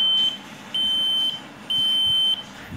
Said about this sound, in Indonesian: Buzzer ni dia akan berbunyi daripada aplikasi ni juga